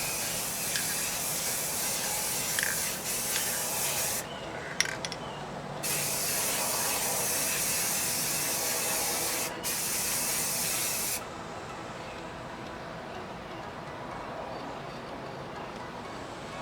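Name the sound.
spraying waterproofing sealant spray onto labels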